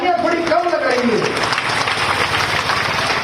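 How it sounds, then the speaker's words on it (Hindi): Audience applause at a motorcycle stunt show by border guards during an Azadi Ka Amrut Mahotsav celebration; a voice speaks briefly at the start, then steady clapping fills the rest. "लेकिन आपकी तालियां थोड़ी कम लग रही है।"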